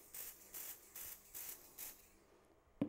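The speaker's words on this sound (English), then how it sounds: "I'm going to actually spray this cup here" Short bursts of black fingerprint powder from a spray can hitting a cup, five or six evenly spaced hissing puffs in a row, fairly quiet, followed by a sharp small clack at the end.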